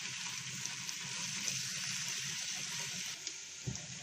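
Onion and garlic fry in a pan for chicken kabsa, giving a soft continuous sizzle with faint crackles and a brief stir or clatter near the end, heard alone without talk.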